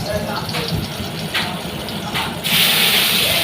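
Ground pumpkin greens paste poured into a frying pan, a steady wet gushing sizzle that swells louder toward the end, with a voice speaking over it.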